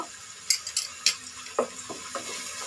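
Ginger and garlic paste with salt are stir-fried in a pan, sizzling softly beneath several sharp clinks and scrapes of a utensil against the pan, close by and without talk.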